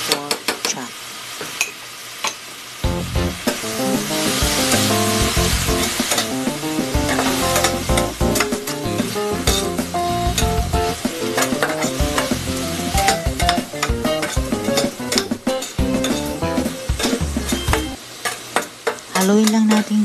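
A pork chop with black salted beans is stirred and fried in a pan, giving steady sizzling with repeated scraping and clinking of the utensil against the cookware, fairly loud and close, with no talking.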